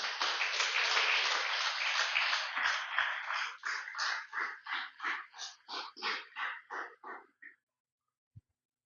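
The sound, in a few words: church congregation applause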